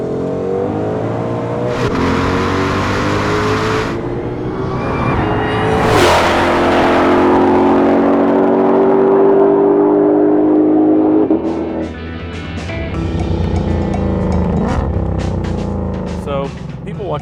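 A Hennessey Venom 1000 Mustang GT500, a track-focused car with carbon fiber wing and carbon wheels, revs and accelerates loudly on a track with steady engine drone, a sharp rise near six seconds, and people talking over it.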